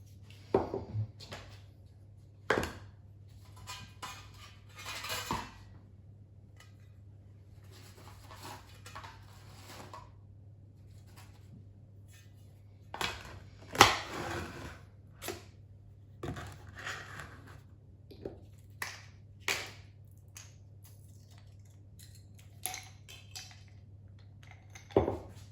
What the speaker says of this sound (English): I'm using whole nutmeg and grating that up because it just releases more flavour